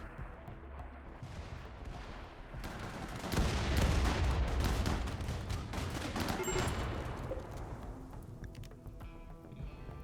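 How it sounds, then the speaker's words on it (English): A rocket artillery salvo fires in the colony-building video game RimWorld, a dense rolling barrage of overlapping blasts that swells loud midway and then trails off into scattered distant booms. "Firing another salvo."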